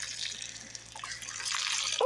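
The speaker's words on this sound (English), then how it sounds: "And we just gonna pour this water on top of them." Water pours and splashes steadily over a bowl of apples to loosen their wax, a continuous close rush of liquid with no talking.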